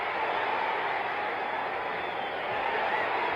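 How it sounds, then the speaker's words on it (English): A boxing arena crowd at a Muhammad Ali versus Ron Lyle fight gives off a steady, dense roar of murmuring voices and reaction that holds at an even level throughout. "And the crowd knows it. They're reacting."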